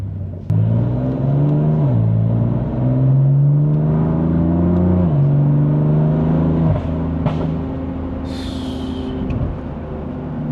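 A 2020 BMW M4 Competition with a stage 2 aftermarket exhaust, heard from inside as the engine revs and pulls through rising and falling tones, with a gear change and a brief hiss near the end.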